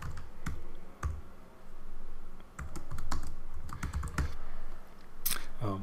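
Steady typing on a computer keyboard while entering thesis title-page details, with brisk clusters of clicks and key taps in a quiet room, heard close and alone.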